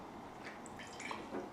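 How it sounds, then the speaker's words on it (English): Water trickles into a glass, a faint, brief pour with small drips, quiet and alone. "So first I'm going to fill up this 1 glass."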